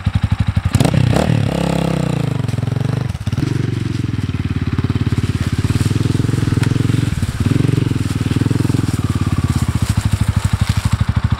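A brand-new 2020 Asian Beast 250 motorcycle engine runs steadily up close, a loud throbbing idle with a couple of quick throttle blips early on, then settling into a continuous rumble.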